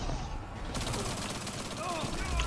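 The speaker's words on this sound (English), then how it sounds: "They shot at me." Enemy gunfire in Destiny 2, a dense rattle of rapid shots running steadily across a busy firefight with game ambience and some voice underneath.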